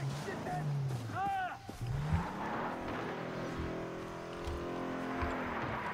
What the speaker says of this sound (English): Well, I found a vehicle.